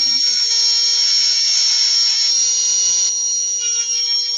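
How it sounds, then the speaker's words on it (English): A Dremel rotary tool whines steadily at high speed, loud and continuous throughout with a constant pitch, a brief low rising tone at the very start. "got the old Dremel out."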